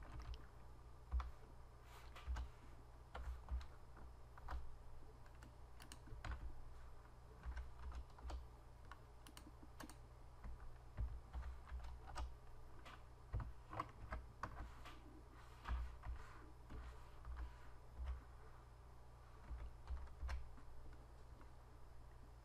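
Typing a WordPress username and password on a computer keyboard, a steady run of close, crisp key clicks in uneven bursts with brief pauses, heard alone without talk.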